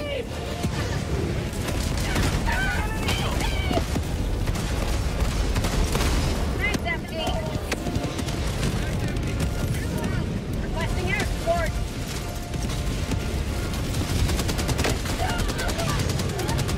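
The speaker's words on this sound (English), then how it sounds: "Keep throwing your rocket strikes in." Rocket strikes and rapid gunfire in Helldivers 2: a long, dense barrage of automatic fire with booming explosions and rumble running steadily throughout, while players talk over the chaos.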